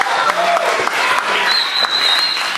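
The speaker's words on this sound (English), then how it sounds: "Big round of applause." Audience at a magic show applauding, a loud, close burst of clapping sustained throughout with a few cheers and tonal background sounds mixed in.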